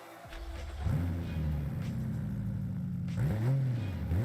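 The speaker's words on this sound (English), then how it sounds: "this is the famous 2JZ engine inside the 200BX." A Toyota 2JZ engine fitted in a 200BX in BeamNG revs up from idle, holds a steady loud drone, then blips through two quick rising-and-falling revs near the end.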